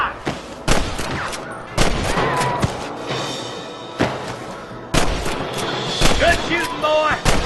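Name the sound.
gunshots in video game Red Dead Redemption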